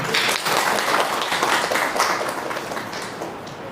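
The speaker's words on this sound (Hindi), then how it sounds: "एक बार सभी जोर से ताली बजाएंगे।" An audience at a gathering at a Mathura Refinery Nagar centre claps loudly and continuously in a dense, steady wave of applause that fades slightly toward the end.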